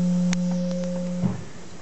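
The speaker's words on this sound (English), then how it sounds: "there is yet another called the echo bourdon, a slightly less deep toned version of the bourdon" A sustained, soft-toned pipe organ note on the echo bourdon stop in Holy Trinity Church, St Austell, holds steady and quiet with a faint hum, then fades out with a slight room echo.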